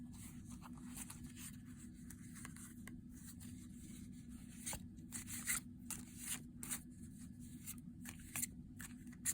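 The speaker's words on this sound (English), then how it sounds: "They shuffle very nicely." A Rider-Waite-Smith black-and-white tarot deck is shuffled quietly by hand. The cards slide against each other in soft, irregular riffles and brisk flurries that grow busier toward the end, close up over a low hum.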